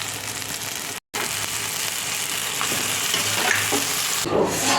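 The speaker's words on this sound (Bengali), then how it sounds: "এই যে মশলাটা কষা হয়ে গেছে, এর মধ্যে এবার মাটনগুলো দিয়ে দিচ্ছে।" Chunks of marinated mutton hit hot spiced masala in a pan and set off a steady, loud sizzle and hiss, with a brief gap near the start and a stirring scrape toward the end.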